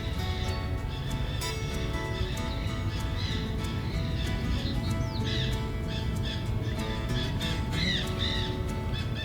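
Parrots calling in a small garden, with repeated harsh squawks and chirps scattered through steady outdoor background noise, fairly close and loud.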